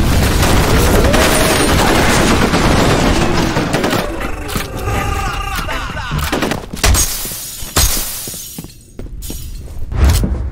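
A grenade blast and rapid gunfire in the shooter game F.E.A.R. Combat: loud bursts of shots and shattering debris, a sharp explosion near the middle, then scattered shots and impacts trailing off.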